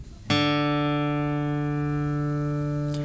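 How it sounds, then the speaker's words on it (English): A single guitar note, the open fourth string D, is plucked and rings out clearly, sustaining and slowly fading for a few seconds. "If you play the fourth string open, you'll hear a D."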